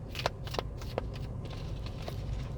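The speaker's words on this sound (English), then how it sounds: "We're just going to shuffle and see what comes out." A deck of tarot cards is shuffled by hand in several quick riffling bursts with brief sharp snaps, over a steady low background hum and no talking.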